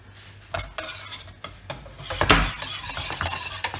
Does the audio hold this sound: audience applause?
no